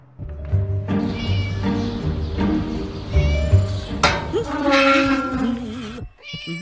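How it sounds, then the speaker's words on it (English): A cat in a game meows loudly and repeatedly in drawn-out, wavering cries that rise into a caterwaul near the end, over faint background music. "Shut up, you silly cat!"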